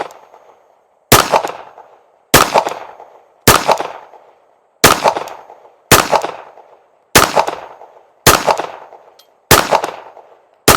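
A Smith & Wesson Bodyguard 2.0 .380 pistol fires nine loud, close, sharp shots at a steady medium pace, each crack ringing out briefly before the next.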